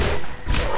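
Pistol fire in the shooter video game Borderlands, a short burst of sharp shots crowded into under a second, loud and close with no talk over it.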